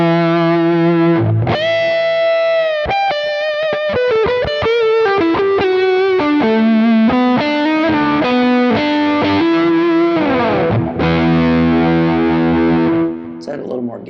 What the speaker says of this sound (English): It's a little bit of a tighter fuzz.